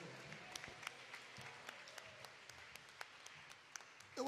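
A congregation claps at a Pentecostal-style church service, faint rhythmic applause with steady regular beats heard from a distance, no voices standing out.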